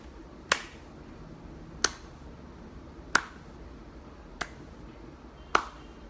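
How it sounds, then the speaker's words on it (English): Five single claps spaced about 1.3 seconds apart in a slow deliberate rhythm, each sharp and close, with quiet room hiss between them during a live chat. "This deserves a slow clap."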